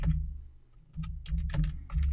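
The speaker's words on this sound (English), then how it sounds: "type in the password" Keys on a computer keyboard tapped out in short quick bursts while a password is entered, with a brief pause near the start, close and fairly loud with no talking.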